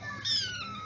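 A single short cat meow, close and fairly clear, over a low background hum.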